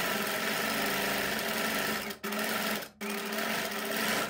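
A sewing machine runs a straight stitch along fabric, its loud motor whirring steadily and close, broken by two very brief pauses before it carries on.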